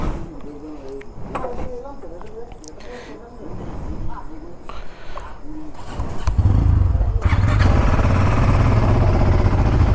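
A motorcycle parked outside a guest house in Puri before a long ride, a voice talking over light knocks and clatter at first, then the engine starts and settles into a loud, steady close idle.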